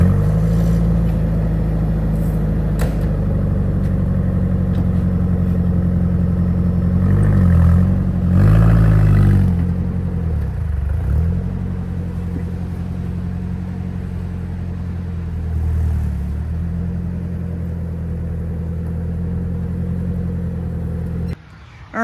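A Nissan Hardbody pickup with its bed removed is driven a short distance, its engine giving a steady low rumble that swells briefly with a rev partway through before settling back to a constant drone.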